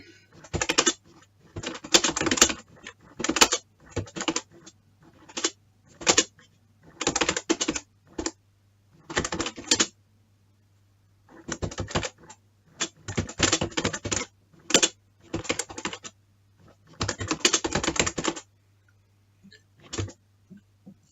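Bursts of rapid typing on a computer keyboard while writing a document, clattering keystrokes in clusters separated by short pauses, close and fairly loud with a faint steady hum underneath.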